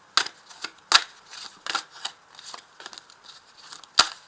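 Oracle cards being shuffled by hand, a run of crisp papery riffles and slaps with a few sharper snaps, close and fairly loud, no talking.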